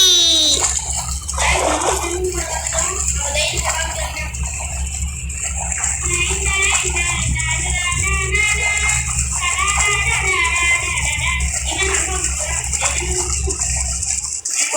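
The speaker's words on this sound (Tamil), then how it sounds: "தண்ணி" Continuous water splashing and rushing in a Roblox video game, loud and steady for the whole stretch, with a voice and other chatter heard intermittently over the water.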